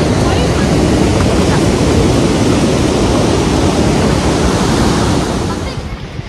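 Loud, steady rush of river water flowing in Pahalgam, Kashmir, a broad continuous roar close to the microphone that eases slightly at the end.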